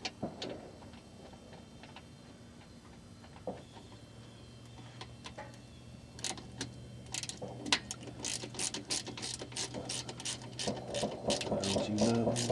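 A ratchet threading the rear differential plug back into a Trailblazer: a close, steady run of rapid clicking pawl strokes that speeds up and grows louder toward the end, over faint background noise.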